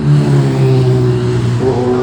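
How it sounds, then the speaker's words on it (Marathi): A loud motorcycle engine runs steadily with a deep, throbbing drone, its pitch lifting briefly near the end as it revs. "या बाईकचा आवाज लक्षात घ्या"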